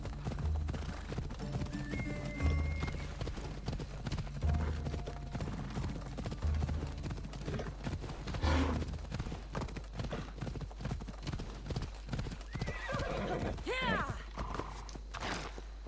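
Horse hooves in the Assassin's Creed Odyssey video game: a steady, close clip-clop of hoofbeats trotting throughout, with a whinnying neigh near the end and a faint low ambient drone underneath.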